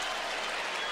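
Crowd at a 2003 US Open tennis semifinal erupts in a dense, loud roar of shouts and applause that fills the whole moment without a break.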